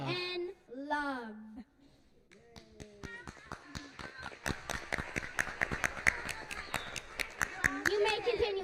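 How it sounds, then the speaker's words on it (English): A church congregation claps at the end of a service: sharp, irregular hand claps build into steady applause, with a voice singing or speaking at the start and again near the end. "You may continue clapping."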